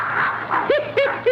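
Dog barking in an old wartime cartoon, a few sharp barks with rising and falling pitch in short bursts over a busy music and effects background.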